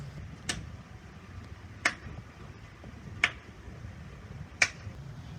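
Four light, slow hand claps spaced about a second and a half apart, each a soft sharp snap over a quiet room hum, with no talking.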